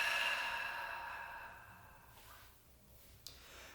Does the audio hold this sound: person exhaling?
yes